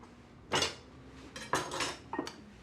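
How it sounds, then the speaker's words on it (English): A knife cuts fresh-picked arugula on a kitchen board with a few distinct, quiet chops and clinks that come in small clusters over a low background, with no talking. "And I've got some arugula here, fresh picked again. And I'm going to cut that up just a little bit"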